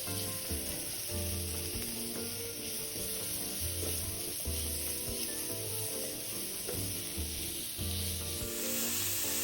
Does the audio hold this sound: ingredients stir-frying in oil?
yes